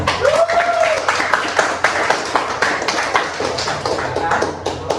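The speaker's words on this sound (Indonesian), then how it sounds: "Ya, kita beri tepuk tangan." Classroom applause after a group presentation, with a loud burst of uneven, close clapping from students, some sharp individual claps standing out, and voices talking and calling over it.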